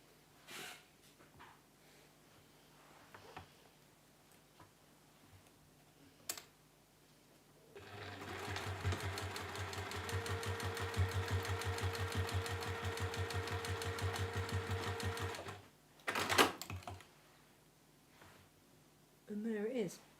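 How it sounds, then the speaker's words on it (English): A sewing machine stitches across the top of a fabric corner-cover bookmark: after quiet handling, a rapid, even run of needle strokes lasts about eight seconds, then stops, followed by a few soft thumps. "And sew across the top."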